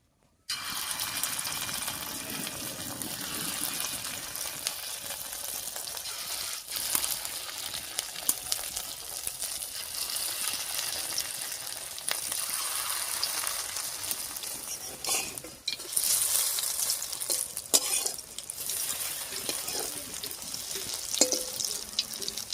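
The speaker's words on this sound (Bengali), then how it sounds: "এইবার ভুট্টার এই ব্যাটারটা দিয়ে ছোট ছোট করে বড়া বানিয়ে নেব।" Small corn-batter fritters frying in mustard oil in a wok, giving a steady dense sizzle that carries on without a break.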